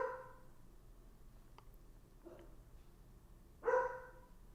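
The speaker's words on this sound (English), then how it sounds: "My dog's barking." A household dog barks a few times in the background of a quiet room, faint and intermittent, with one louder, sharper bark near the end.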